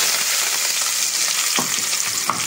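Green chilies, onion and curry leaves sizzle in hot oil, a dense steady hiss with a few soft stirring knocks toward the end, close and alone.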